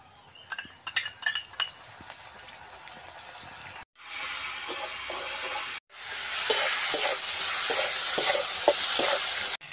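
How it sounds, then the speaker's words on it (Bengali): Ginger garlic paste hits a hot pan for chili chicken and bursts into a loud, steady sizzle, broken by brief pauses and followed by repeated spoon clinks and stirring scrapes. "1 চামচের মতো বড় চামচের আদা রসুনের পেস্ট দিয়ে দিচ্ছি।"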